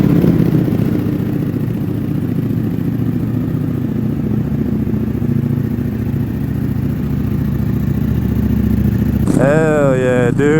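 Ducati V4 motorcycle engine idling and running steadily up close, a dense mechanical rumble throughout, with a rising rev or starter whine near the end.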